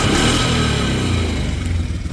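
Polaris Sportsman 335 ATV engine running close by with a loud, steady rumble that rises into a rev, its idle rough from poor starting and a backfiring fault.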